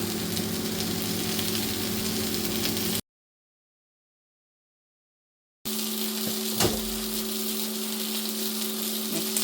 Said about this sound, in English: And sizzling away for a couple more minutes now.